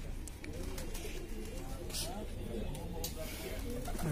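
Rooftop loft pigeons coo in low repeated murmurs, close and fairly soft, among brief chirps and background chatter from people talking nearby.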